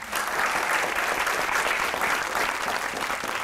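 Studio audience at a Pakistani comedy talk show breaking into applause, a dense, even burst of clapping that runs steadily throughout and fades slightly at the end, with no voices over it.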